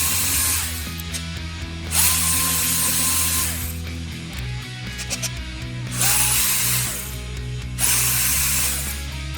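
A power drill drives a countersink bit into a plastic trash can being made into a basketball hoop, with repeated whirring bursts of drilling and clicking ratchet-like chatter between them, close and fairly loud.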